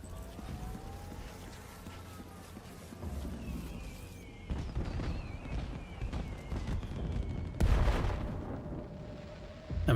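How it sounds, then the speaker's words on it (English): Fireworks effects in a cinematic video game cutscene, a steady stream of booms, pops and crackling bursts under a bed of music, with a louder burst near the end. "I'm really loving the fireworks effects."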